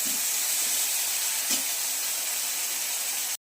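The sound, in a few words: frying in ghee, sizzling in pan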